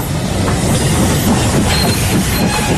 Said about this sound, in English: London train.